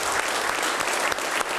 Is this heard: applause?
yes